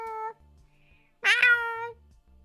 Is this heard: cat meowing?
yes